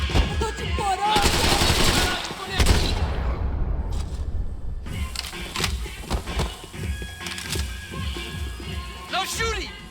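Gunfire from the video game Max Payne 3 in a tense firefight: bursts of rapid automatic shots and loud cracks crowd the first seconds, then sporadic shots and clatter continue under shouted voices.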